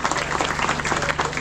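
Loud, continuous applause from a crowd at the inauguration of a Buddhist vihara in a village, dense clapping that stays steady through the short stretch with no break.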